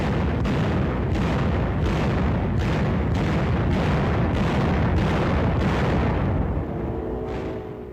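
Artillery shells firing and exploding in a WW2 combat film of the US retaking Guam from Japanese forces, a loud continuous barrage of regular heavy booms about every half second that fades slightly at the end.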